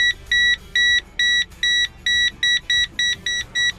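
A universal car parking sensor beeps in evenly spaced, high electronic pulses as the car reverses toward an obstacle, the beeps coming slightly faster toward the end, with no talking.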